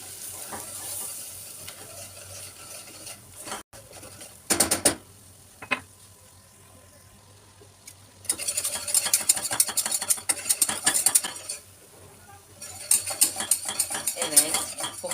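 Flour toasting in a pan for a potato and spinach gratin is stirred with a spoon, giving scraping and clinking against the pan in irregular bursts with a soft sizzle between, close up and without talk.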